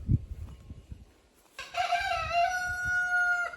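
A rooster crows loudly and close by on a farm after a quiet stretch with faint chicken clucking, the long crow holding steady before cutting off.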